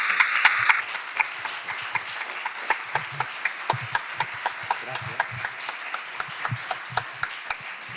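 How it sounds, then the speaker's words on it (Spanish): An audience claps after a talk at a mental health training session in a school, a fairly dense round of applause that thins into scattered, distinct claps spaced out over several seconds. "Quería pediros un aplauso por la gran intervención de Pedro"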